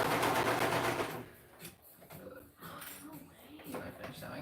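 A sewing machine stitches a bag, running in a steady, close whir for about a second before stopping as people talk nearby.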